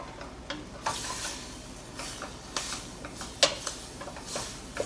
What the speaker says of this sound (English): Just getting the meat browned.